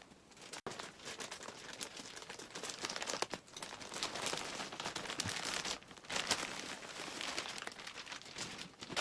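A plastic mail parcel holding football jerseys is torn open and handled, giving loud, continuous crinkling and crumpling with brief tearing bursts throughout, close up and with no talk.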